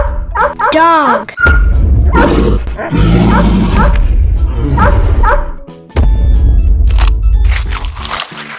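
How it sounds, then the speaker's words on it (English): A toy dog barks and yips in loud, electronic-sounding bursts, with excited talk around it. "Dog."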